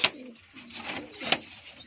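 Soft pigeon cooing and chirps, a few short calls with brief pauses, close and fairly quiet.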